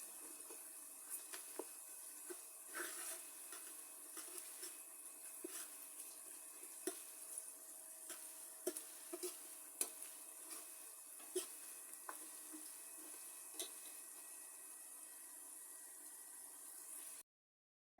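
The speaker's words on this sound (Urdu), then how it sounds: "اب اس میں ڈالوں گی 1 چمچ لہسن اور لہسن کی بھی ہلکی سی بھنائی کروں گی۔" Garlic fries in a pan with onions, giving a thin, steady sizzle broken by small crackles and occasional spoon taps, with no one talking.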